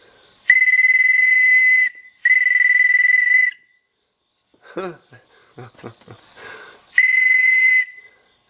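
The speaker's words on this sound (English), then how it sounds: "What we got here is a whistle with a bird on it" Plastic whistle shaped like a bird, blown in three long, loud, steady shrill blasts, with someone talking briefly between the second and third.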